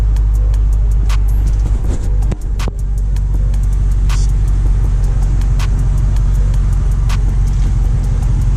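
A Dodge Charger engine idles during a state emissions test, a steady low rumble heard up close and alone, with a few faint clicks and a brief dip in the middle.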